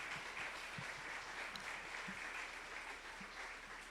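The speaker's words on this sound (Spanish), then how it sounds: "Le damos un fuerte aplauso al Señor esta mañana." A church congregation applauds during a Sunday morning service, the clapping faint, steady and sustained across the whole stretch without pause.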